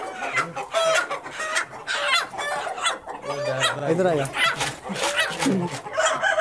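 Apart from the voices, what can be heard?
Plymouth rooster and hens clucking while being caught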